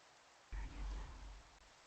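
Rain and a sudden low thunder rumble inside a modded Minecraft world. The rumble swells abruptly, then fades over about a second against a faint steady hiss of rain.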